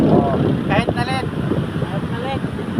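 Strong wind gusts at a seaside fishing spot in Tanza, Cavite, Philippines buffet the microphone with low rumbling blasts. Voices talk over the wind throughout.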